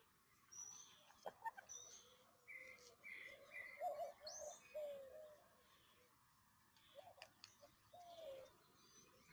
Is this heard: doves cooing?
yes